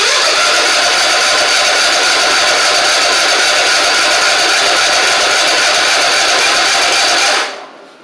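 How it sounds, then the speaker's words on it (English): A two-year-old Troy Bilt zero-turn mower with water in its fuel cranks for a long stretch, making a steady loud droning whir that cuts off abruptly near the end. "this is going to take a few seconds of cranking"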